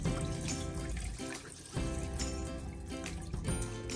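Rinse water pours off soaked bulgur in a kitchen, a close, gurgling stream of liquid running in uneven surges with brief pauses between them.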